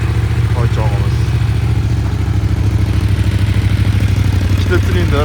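A CFMoto 800NK two-cylinder motorcycle idles close by with a steady, loud, even rumble throughout, with a couple of brief faint voices behind it.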